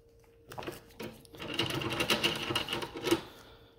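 A hand-cranked tool sets rivets into John Deere R tractor brake shoes, making a rapid, close mechanical whirring and clicking that builds in intensity, with no voices.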